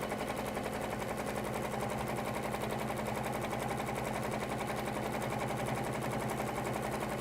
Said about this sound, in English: I'm going to sew a channel